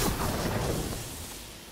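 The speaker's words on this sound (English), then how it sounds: "Lightning cannon that arcs from its initial target?" A lightning cannon fires in the video game Call of Duty Black Ops III, a loud, dense crackling roar that slowly fades away.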